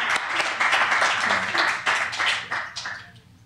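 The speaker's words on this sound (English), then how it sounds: "Let's give our brother Arnold Fitzpatrick a great round of applause" Audience applause welcoming a poet at a 1997 poetry recital in the San Francisco Public Library, a burst of clapping that swells and then tapers off.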